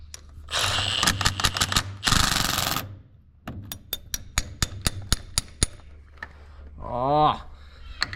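Power tool driving a nut on the front suspension of an N70 Toyota Hilux, sounding as two long loud bursts followed by a rapid series of short sharp impacts, ending in a rising whine, with some talk nearby.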